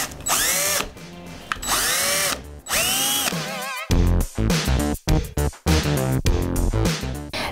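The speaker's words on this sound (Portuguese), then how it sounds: "eu vou fazer um furo para passagem do fio" A power drill bores a hole through a mirror for a wire in repeated bursts, whining as it spins up and then chattering in short choppy pulses as the bit grinds through, close and loud.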